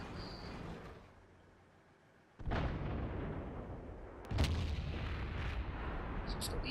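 Two booming tank gun shots from World of Tanks during an IS3 match, loud and close, each a sudden blast followed by a long rumbling tail, set against steady battlefield background noise.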